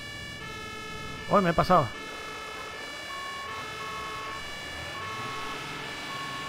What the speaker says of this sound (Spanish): Vamos a quitar la sirena.